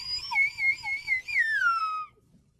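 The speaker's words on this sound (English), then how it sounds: "I was just in a rush to get a slide whistle, and it's a My Little Pony slide whistle" A My Little Pony slide whistle plays alone for about two seconds: a bright, wavering tone bobs up and down a few times, then slides steadily downward and stops.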